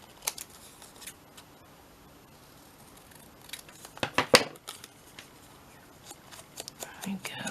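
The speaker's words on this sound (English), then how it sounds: "Now I'm going to cut these little tabs off and just stick it on directly." Scissors snip small paper tabs off a piece of envelope craft ephemera, a few quiet, close clicks and cuts among soft rustling, with a clustered run of snips in the middle.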